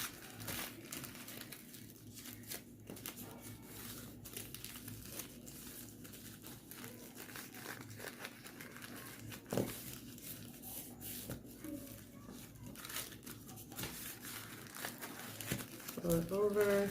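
Mullein leaves are refolded by hand, giving soft, intermittent crinkling and rustling at low volume close by, with a person talking over parts of it.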